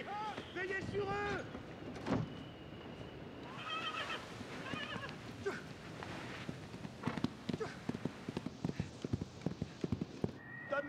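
Horses clip-clop on the move and whinny in a film scene about an army horse pasture, with hooves tapping in a steady, denser rhythm later on, neighs rising early, and voices mixed in.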